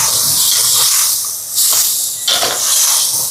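Chicken with salt stirred in a hot pan for a home-cooked lunch, giving a steady loud hiss of sizzling with brief bursts of stronger frying noise as the pieces are mixed.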